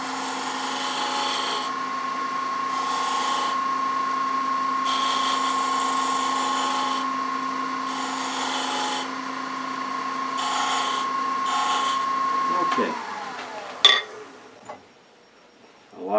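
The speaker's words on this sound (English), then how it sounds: "Now I'm going to pick up that cut with this detail gouge to bring it around, round it off" Woodturning lathe spinning an acorn box while a detail gouge rounds off a cut, a steady high whine with tonal hum and intermittent scraping bursts, ending in a clatter and the motor winding down.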